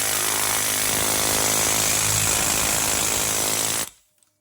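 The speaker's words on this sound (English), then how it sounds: "Air hammer great tool" An air hammer rattles continuously and loudly against a stuck lower ball joint on a Ford Taurus lower control arm, then cuts off abruptly.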